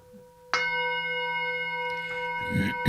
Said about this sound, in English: Notice, oh, now there's the gong